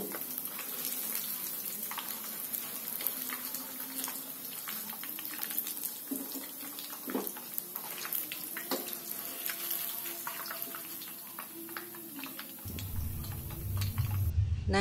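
Tofu snacks frying in hot oil make a steady, close crackle and spatter that runs throughout with no talking, and a low rumble comes in near the end.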